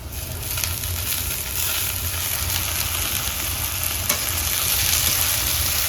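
Chopped onion sizzles in hot oil in a pan while cooking Manchurian at home, a steady, close, fairly loud frying hiss with faint stirring scrapes and no voices.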